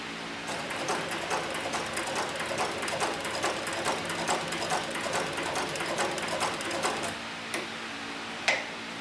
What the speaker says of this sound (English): we're going to put a little bit smaller stitch on the machine here